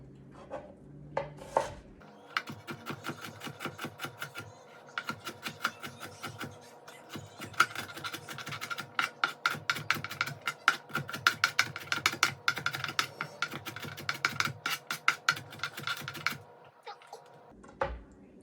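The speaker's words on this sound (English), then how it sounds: "now I'm gonna chop the onion" A knife chops through half an onion on a cutting board, dicing it in a long run of rapid, even, close taps that stop and restart briefly at the ends.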